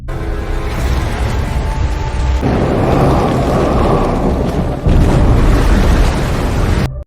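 A boat engine explodes in a loud, sustained roaring blast that swells and surges again partway through, rumbling on for several seconds.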